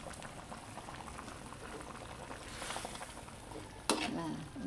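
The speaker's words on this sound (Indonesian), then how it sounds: "Kita akan aduk lagi." A pot of fern (pakis) dish bubbles at a steady boil while being stirred, with soft scraping and liquid churning throughout and a sharper clank of the utensil near the end.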